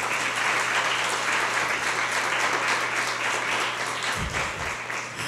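A church congregation applauds steadily and densely, a broad continuous wash of many hands that holds level, then thins slightly near the end as a low voice enters.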